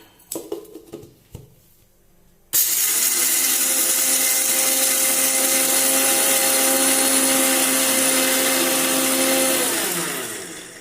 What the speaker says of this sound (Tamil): காய் வேகிறதுக்குள்ள வேர்க்கடலையே பொடி பண்ணி எடுத்துப்போம்.